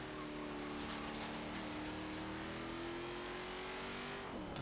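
A 1946 Ford Super Deluxe station wagon drives an autocross course, its engine droning steadily and rising slightly in pitch under load, heard from inside at moderate loudness with no talk.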